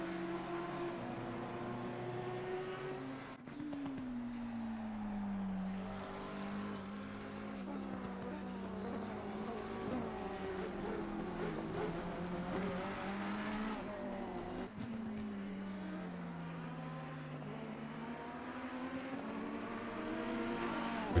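Race cars drive back to the pits, their engines droning and shifting in pitch as they rise and fall in speed, steady and mid-distance for the whole stretch.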